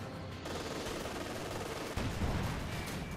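Panther tank machine guns rattle in Company of Heroes 2, a continuous dense burst of automatic fire with a heavier surge partway through, loud and without speech.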